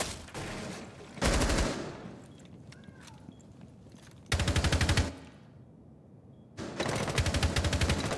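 Video game gunfire comes in three sharp, loud automatic bursts, each lasting under a second, separated by quieter stretches of faint background sound.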